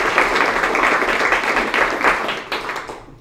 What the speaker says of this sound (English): Y'all give a big round of applause for Larry Aiken.